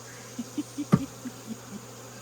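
Honey bees buzzing during a hive check, with faint steady humming under a series of soft, evenly spaced buzzy pulses and one sharp, close burst of breath or buzz in the middle.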